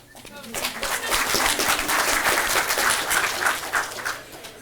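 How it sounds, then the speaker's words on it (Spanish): An audience at a university lecture at Universidad Católica applauds the young women from Medellín, a dense burst of clapping that swells quickly, holds for several seconds, then thins out. "vamos a darle un aplauso aquí a las muchachas de Medellín"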